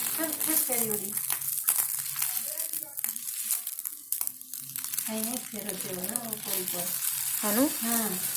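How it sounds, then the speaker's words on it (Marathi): Pav bread toasting in oil on a hot griddle gives a steady soft sizzle and crackle throughout while someone talks over it. "आणि तेल टाकल्यानंतर या गरम तव्यावरती आपल्याला पावला अशा प्रकारे शेकायचा आहे"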